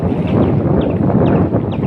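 Strong wind gusts across floodwater in flooded Kuttanad, raising waves. The result is a loud, continuous rushing roar that buffets the microphone for under two seconds, with no voices.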